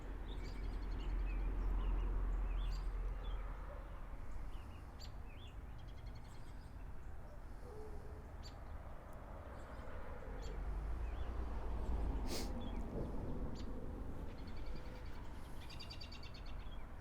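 Wild birds chirp around backyard bird feeders outside a house, with scattered short calls and tweets over steady outdoor background noise, moderately distant and fairly faint throughout.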